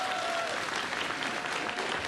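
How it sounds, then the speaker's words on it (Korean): A crowd at a public hearing event applauds in a dense, even wash of clapping that holds steady for the whole moment, with no voices standing out. "다시 한번 박수 부탁드리겠습니다"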